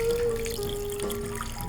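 Absolut Watermelon cocktail pouring into a glass of ice, a steady close liquid trickle lasting throughout under a faint low hum.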